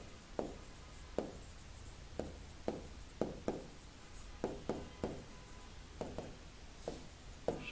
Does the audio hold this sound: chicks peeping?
no